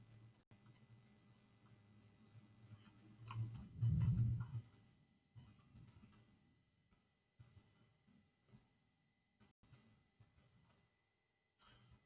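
Quiet, sparse keystrokes on a computer keyboard come in short bursts and scattered single taps, close by and faint, with a brief louder rustle near the start and no talking.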